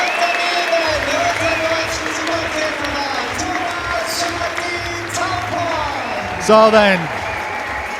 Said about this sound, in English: the big cheer from the crowd is because 2 Germans have started